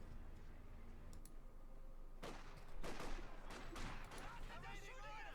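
MG42 machine gun fire in Company of Heroes 2, heard as repeated bursts of rapid gunfire mixed with other battle noise over a steady game soundscape.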